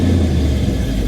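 A K20 flatbed truck build drives with its engine rumbling low and steady, heard up close from inside the cab for a short moment without talk.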